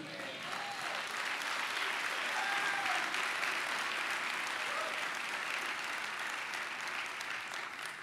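A large church congregation applauds steadily, dense clapping that fills the room at an even level for several seconds, with faint voices mixed in.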